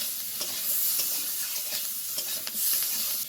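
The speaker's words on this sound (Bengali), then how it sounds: "এবার সব কিছু দিয়ে খুব ভালোভাবে কষিয়ে নেব।" Fish curry masala with turmeric and salt stir-fries in a pan, a continuous bright sizzle broken by quick scraping strokes of a spoon, close and fairly loud, with no talking.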